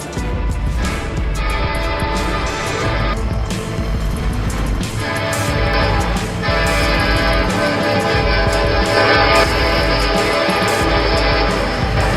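Train horn blares loudly and continuously over heavy rumbling rail traffic, with a truck driver ignoring the warning at a crossing; the sound is steady and dense throughout.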